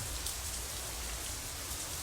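Rain falls in a visual novel game, a soft steady hiss of drops on surfaces with no pauses, quiet and even throughout.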